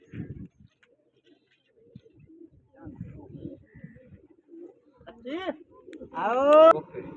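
Pigeons from a newly bought set coo close by in a rooftop loft, a couple of rising warbling coos near the end, after stretches of quiet rustling and someone talking.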